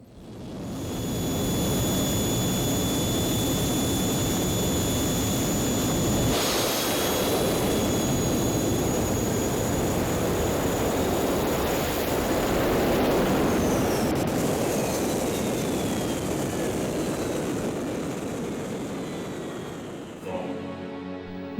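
Roaring jet engine of a jet-powered drag vehicle that tops 400 km/h before deploying a parachute, a loud, steady, continuous blast with a slight whine that holds for about twenty seconds, then tapers off near the end.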